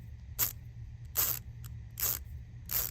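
A Craftsman ratcheting screwdriver clicks in four evenly spaced, crisp ratchet bursts, close and fairly quiet, with no voices.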